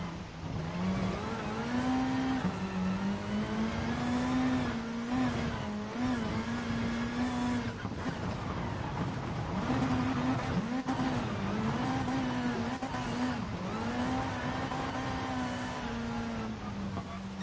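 A race car engine drones continuously in the Rally GT Sport video game, its pitch rising and falling with shifts and throttle changes, accompanied by occasional tire noise, loud and close throughout.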